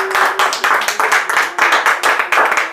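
A church congregation claps together in rhythmic bursts, loud and close, the hand claps forming a steady, slightly uneven pulse with no talk over it.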